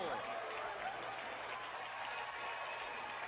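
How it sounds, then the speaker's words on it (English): Orioles home crowd in a Baltimore baseball stadium giving a standing ovation, a steady wash of distant cheering and applause that runs under a broadcaster's commentary throughout. "With a standing ovation from the Oriole crowd, too."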